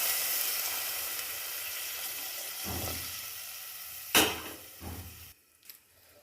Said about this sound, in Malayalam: ഇതിലേക്ക് ഇനി ചൂടുള്ള വെള്ളം നമുക്ക് ഇതിലേക്ക് ഒഴിച്ചു കൊടുക്കാം